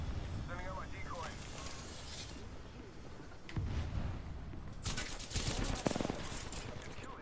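Gunfire in Apex Legends comes as repeated loud bursts and shots, some close and sharp, mixed with mechanical clatter and a player talking through the noise.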